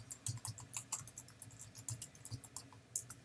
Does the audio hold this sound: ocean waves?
no